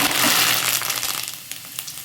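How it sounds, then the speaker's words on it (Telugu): Curry leaves hit hot oil for a drumstick pickle tempering with a loud, hissing sizzle that quickly eases into lighter, scattered crackling. "ఆయిల్ కొంచెం వేడిగా ఉంది కాబట్టి కొంచెం కరివేపాకు వేస్తుంది"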